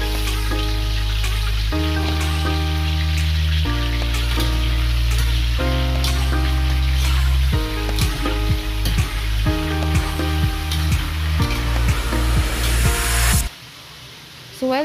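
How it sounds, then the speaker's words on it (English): A kilo of chicken deep-fries in hot oil for a Lahori-style butter chicken, a continuous bright sizzle and crackle running underneath loud stepping music that drops out briefly near the end. "We will deep fry our chicken."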